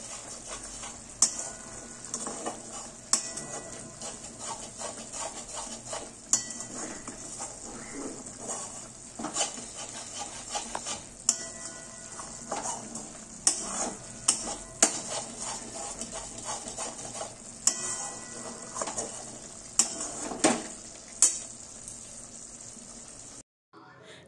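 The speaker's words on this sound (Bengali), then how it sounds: "দেখতে পাচ্ছ গ্রেভিটা ফুটছে আমার" Cashew and green chili gravy bubbling in a kadai, with steady simmering hiss and repeated sharp clinks of a spoon stirring against the pan, close and continuous throughout.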